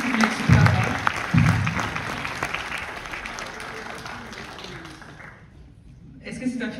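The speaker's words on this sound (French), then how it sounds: "On l'applaudit chaleureusement." Warm applause from an audience at a film screening meet-and-greet with the director, a dense patter of clapping running several seconds with voices mixed in, fading toward the end before briefly returning.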